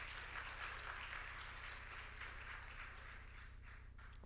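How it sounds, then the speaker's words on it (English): A lecture audience gives faint applause for the panelists and moderator, a soft, distant wash of clapping beneath a steady low hum. "A round of applause for them,"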